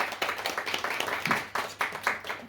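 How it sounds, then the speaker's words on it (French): Audience applause at a literary afternoon talk, a small group clapping in a steady, moderately near patter that swells and thins in uneven bursts, with no voices over it. "je vous demande de les applaudir"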